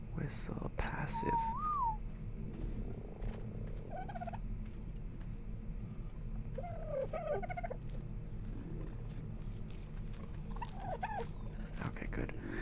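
Whistle commands in the video game ARK, several short warbling, sliding whistle calls spread across the span over a constant low hum, with faint soft speech beneath.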